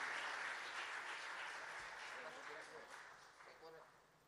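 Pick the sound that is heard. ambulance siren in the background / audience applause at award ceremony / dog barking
audience applause at award ceremony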